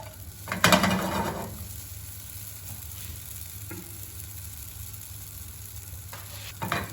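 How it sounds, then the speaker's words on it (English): Bread toasting in a frying pan for a Caesar salad, giving a steady soft sizzle with a burst of louder frying and stirring near the start and a few faint scrapes later, no voices. "the bread is getting like toasted"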